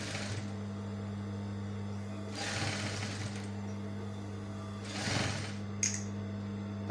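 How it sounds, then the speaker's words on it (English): A sewing machine stitches a suit chest pocket in bursts, a steady motor hum broken by short louder runs of rapid needle chatter, close and alone with no talk. "so I'm going to sew from here"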